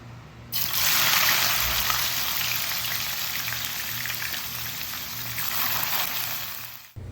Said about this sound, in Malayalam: അപ്പം പാവക്ക ഇട്ട് കൊടുത്തിട്ട് പിന്നെ ഒരു മീഡിയം ഫ്ലെയിമിലേക്ക് ആക്കിയിട്ട് വറുത്തെടുക്കുക.